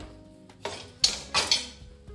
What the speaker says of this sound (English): you can hear already how crunchy they are as they come out